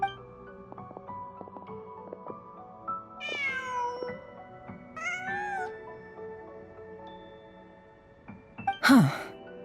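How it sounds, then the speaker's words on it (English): A cat meows in the video game Genshin Impact, a couple of clear, drawn-out meows over soft game music, followed by a short louder cry near the end. "Just a cat."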